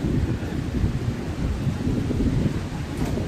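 Low rumbling and roaring in a thunderstorm, a continuous, loud, close wash of noise mixed with wind buffeting the microphone, without any distinct claps or talk.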